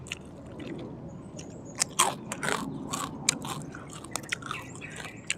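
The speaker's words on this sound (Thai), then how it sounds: "เขาเรียกผัก ผักคะน้าดอก กรอบกรอบไปพื่น้อง" Someone bites into crunchy kale flowers up close, with a few crisp crunches followed by softer chewing and crackling. The sounds are quiet but clear, and no one talks.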